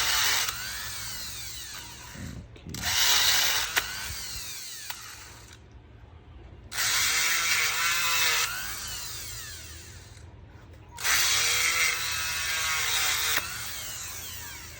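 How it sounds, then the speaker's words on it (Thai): Enamel insulation is scraped off the copper wires of an inductor for a 96-volt inverter, making three long, raspy scraping bouts separated by short pauses over a faint steady hum. "ขูดเราก็ต้องขูดออกทุกเส้นเลยนะครับ มีสี่เส้นนะครับ เราก็ต้องขูดออกทั้งหมดเลยนะครับ"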